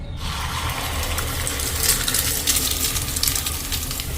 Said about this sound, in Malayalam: പാനിലേക്ക് മുട്ട ഒഴിച്ചു കൊടുക്കാം.